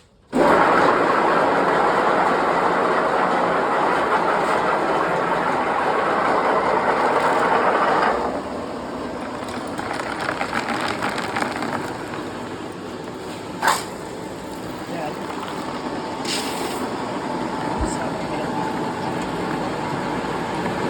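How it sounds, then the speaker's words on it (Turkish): An M.Sönmez pellet feed machine roars loudly as it grinds barley, corn, beans and wheat, then drops to a lower steady churning hum with a few sharp knocks. "Bu şekilde makinemiz öğütüyor."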